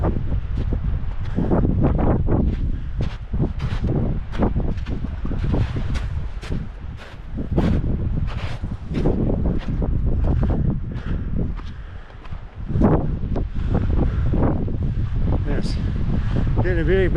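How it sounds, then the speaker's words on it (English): Strong gusty wind roars and buffets the microphone continuously on a high, cold stretch of the Lawn Lake Trail near the edge of Long Lake in Rocky Mountain National Park, surging and easing without a break. "Ooh, that wind."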